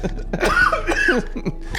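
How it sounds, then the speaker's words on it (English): A short burst of harsh coughing, several rough hacks in quick succession, loud and close. "Just as soon as we talk about crack, he's coughing."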